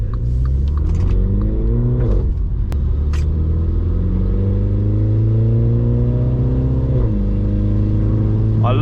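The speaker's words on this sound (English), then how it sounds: "I love the rumble this thing has. Like, even just doing that, going through the gears, it's such a nice, just sounds nice." Continuous engine rumble from a Mini JCW shifting up through the gears on an icy, snowy road, with rising rev sweeps broken by brief dips at each shift, loud and steady with no talk over it.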